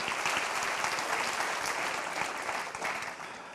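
A church congregation applauds the Lord during a sermon, a continuous, full crowd applause that holds steady and eases slightly toward the end.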